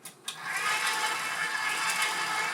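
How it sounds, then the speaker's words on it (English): A stand mixer kneading pizza dough, starting with a couple of knocks and then settling into a steady, close motor whir with a rhythmic churning texture. "Close down the mixer."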